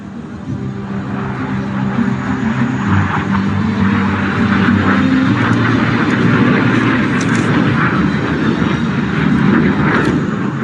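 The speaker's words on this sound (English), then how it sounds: "There she goes, banking right," LCA Tejas fighter jet at an airshow, a continuous loud engine roar with shifting pitch as it banks and turns overhead, steady and unbroken.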